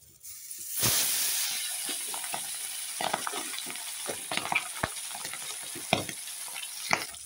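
Pabda fish sizzle in hot oil in a pan: a loud burst of hissing as the fish go in, then a continuous fizzing crackle broken by sharp pops and spatters.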